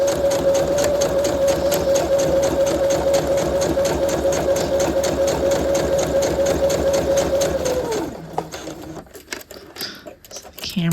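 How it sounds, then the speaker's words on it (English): A sewing machine stitches a welt pocket on a half-scale jacket, running fast and steady with a rapid rhythmic hum, then stopping abruptly near the end, leaving quieter clicks and handling noises. "needle down, lift your foot, pressure foot, lower your foot."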